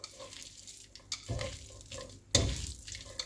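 Spaghetti is stirred with pasta seasoning and fried tomatoes in a pan, giving a soft sizzle with scraping, clattering pushes of the spoon every second or so.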